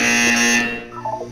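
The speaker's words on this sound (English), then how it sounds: "You will hear a buzzer." A loud, harsh electronic buzzer sounds in Portal 2, a steady tonal blare lasting over half a second before cutting off, followed by faint softer tones.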